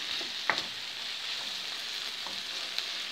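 Onions fry to golden in a pan with a steady, hissing sizzle, while a few light scrapes and taps of stirring sound through it; nobody speaks.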